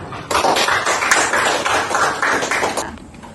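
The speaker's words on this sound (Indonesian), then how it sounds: "Kita berikan aplaus untuk hasil presentasinya." An audience claps after a group presentation in a classroom-style session, a brief dense burst of applause from many hands that starts abruptly, holds for a few seconds and fades out.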